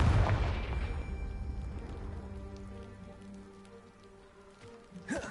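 A Confringo fire spell from Hogwarts Legacy blasts a pile of rubble, a loud burst at the start followed by tumbling, crackling debris that fades over several seconds, with a short thump near the end.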